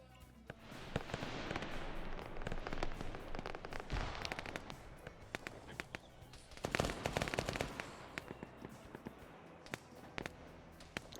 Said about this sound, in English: Hearing this 50 cal fire up here.